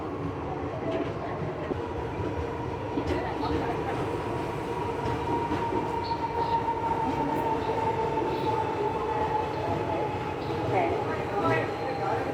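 The Mumbai CSMT to Chennai Egmore Mail pulls out of Wadi Junction, a steady rumble of rolling carriages and faint clickety-clack of wheels on rails, heard from inside the train under a voice.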